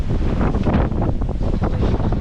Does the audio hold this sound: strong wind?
yes